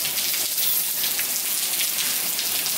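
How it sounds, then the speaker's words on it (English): Heavy rain pours down in a dense, steady hiss of drops striking surfaces nearby, continuous and loud with no voices. "it's pouring down the rain"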